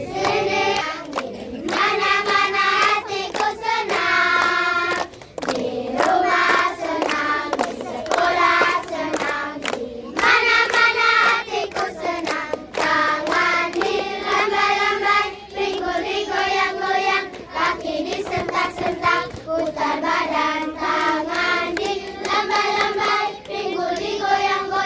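Children clap their hands steadily throughout a loud group song during a visit by a provincial vice governor in East Nusa Tenggara, the claps blending with continuous young voices singing.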